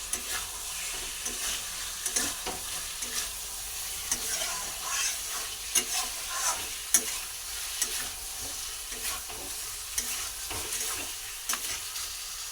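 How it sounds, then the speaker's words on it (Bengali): Boiled potatoes being sautéed and stirred into a Bengali fish curry in a pan, with a steady sizzle of oil and repeated scraping stirs throughout, close and fairly quiet. "তো আমি তাহলে ততক্ষণ কষতে থাকি আলুটা দিয়ে।"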